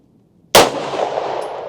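A single sharp pistol shot fired barehanded cracks after a brief silence, loud and close, followed by a lingering ringing decay.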